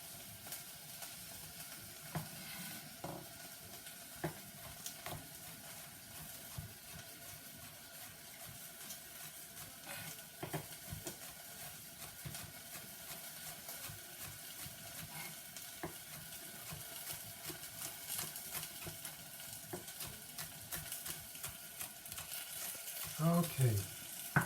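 Chopped green onions fry and get stirred in a home cooking pan, a steady, soft sizzle with scraping stir strokes throughout and a louder clatter near the end.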